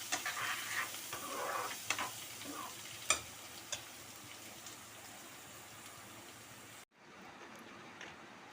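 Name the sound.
onion, green chili and coriander roasting in a pan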